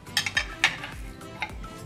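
Soaked raw Bangka crackers dropped into a cooking pot for lempah darat: a few short clinks and scraping knocks of a utensil against the pot, close and fairly quiet.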